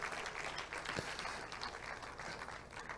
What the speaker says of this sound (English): a round of applause for all the big wigs that you saw today